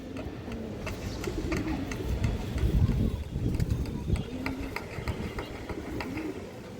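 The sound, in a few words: male black dopas pigeon cooing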